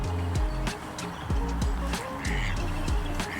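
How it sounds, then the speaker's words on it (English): Ducks quacking repeatedly at a bird feeding spot, several nearby calls in irregular bursts over background noise. "There are ducks, there are dove"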